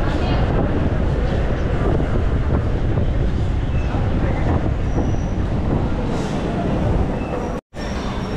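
Steady rumbling roar from inside a moving local train in Chennai, broadband rattle and wind noise running continuously throughout, with a brief dropout near the end.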